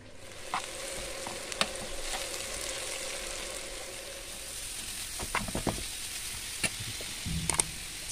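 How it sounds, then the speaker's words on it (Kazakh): Meat frying in hot oil in a pan, with a steady broadband sizzle throughout and scattered sharp crackles and spatters, a louder burst of stirring clatter near the end; no talking. "Майымыз қызды, енді етімізді қуырамыз."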